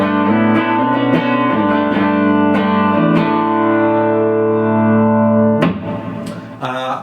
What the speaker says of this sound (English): So my bass tone through the Tweed sounds like this.